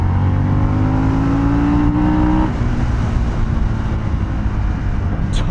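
A Harley-Davidson Sportster S motorcycle engine revs loudly and rises in pitch for a couple of seconds, then settles into a steady, rumbling run close to the microphone.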